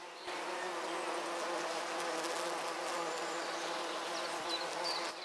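Dense, continuous buzzing of many bees in a bush close by, a steady droning swarm with no voices.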